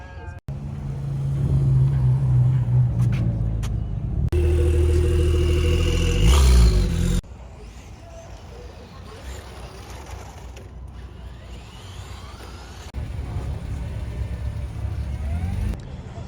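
A 1995 Acura Legend LS with a 6-speed manual pulls away on the road in Central Phoenix, engine revving loudly through the first seconds, then settling into a quieter steady cruise hum that swells again near the end.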